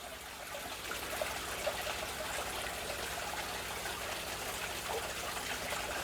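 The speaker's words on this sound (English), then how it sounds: "I've got a couple of drips a second there" Water drips through airline tubing into a fish tank, a faint, steady trickle at a couple of drips a second, close and alone.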